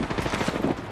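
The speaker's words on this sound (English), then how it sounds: "Getting shot at." Rapid rattling gunfire in the video game Apex Legends, a quick string of close, loud shots in a steady rhythm.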